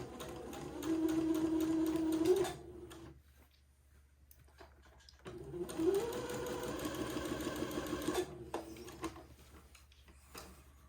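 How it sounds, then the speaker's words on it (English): Sewing machine stitching a basting thread along a baby daygown sleeve, running in two steady bursts of a couple of seconds each with a quiet pause between, close and clear with no talk. "And I'll sew my second basting thread about 1/4 inch away from the first one."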